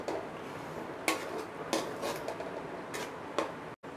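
A spoon stirs coriander leaves into kothu parotta salna in a metal pan, making a few quiet clinks and scrapes against the pan at an uneven pace. No voices are heard.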